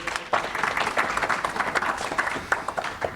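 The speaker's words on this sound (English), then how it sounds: "A round of applause for our editor-in-chief." Audience applause for an editor-in-chief at a cannabis policy forum in Hawaii: a steady wash of many hands clapping, moderately loud and fairly close, with a few sharper individual claps standing out over roughly three seconds.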